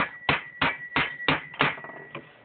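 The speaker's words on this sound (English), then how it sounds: "take your hammer and just," A hammer taps a pin into a Ruger American rifle bolt in a series of about seven sharp, evenly spaced metallic strikes, close and crisp, with no talking.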